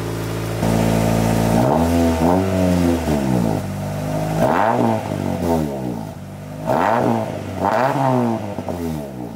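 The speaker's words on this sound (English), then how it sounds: "we'll give a few revs so you guys can hear the true power of the Honda Prelude SI" A 1986 Honda Prelude Si idles with a low rumble, then revs up several times in quick succession, the exhaust roaring and dropping back between bursts.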